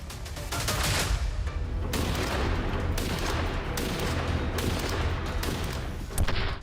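Rapid, heavy gunfire from a British heavy gun bursts repeatedly, loud and booming, with shots overlapping into a continuous barrage.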